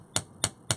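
A hammer strikes a metal earring charm resting on a steel bench block in three sharp, bright metallic taps, evenly spaced, close and loud, with no talking.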